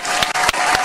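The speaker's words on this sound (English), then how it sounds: "Clap it up for Atozy." A brief burst of dense applause, a loud wash of many hands clapping together with a few sharper peaks, cut short almost as soon as it starts.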